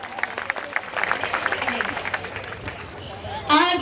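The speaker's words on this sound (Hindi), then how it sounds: "इनके लिए जोरदार तालियां।" Crowd applause at a political rally in Delhi, a burst of clapping mixed with crowd babble and voices, loudest early then thinning, with a louder shout-like sound near the end.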